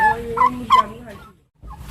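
A guinea fowl gives a few loud, close calls in quick succession, then falls silent and starts again briefly near the end.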